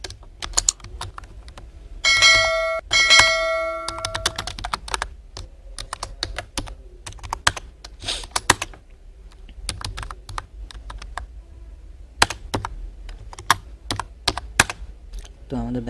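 C code being typed on a computer keyboard, steady clicking keystrokes close up for about sixteen seconds, with a brief denser flurry early on, uneven bursts and pauses, and a voice faintly in the background.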